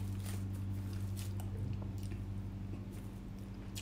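Eating crabs, okra and kamote tops during a mukbang, soft close-up biting and squishy chewing sounds repeating irregularly over a steady low hum.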